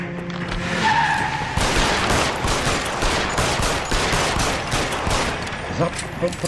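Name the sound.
gunfire in LA Noire video game shootout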